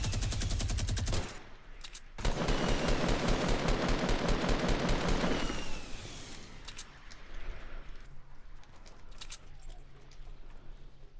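Rapid bursts of automatic gunfire in a squads shooter video game, loud and continuous for several seconds, then a short pause and another long burst, followed by quieter scattered shots and game noise.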